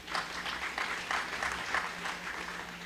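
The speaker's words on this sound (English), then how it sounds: "let us give the roving team a round of applause" People at an emergency exercise evaluation applaud the roving team, a soft, steady run of many hands clapping at a moderate distance for a few seconds.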